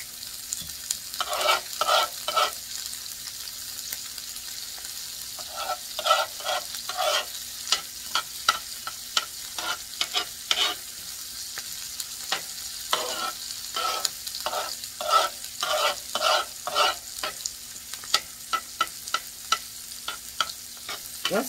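Salmon fillet and shredded brussels sprouts sizzle in bacon fat in a pan, a steady hiss broken by frequent clattering stirs and scrapes of the utensil, close and clear with no talking.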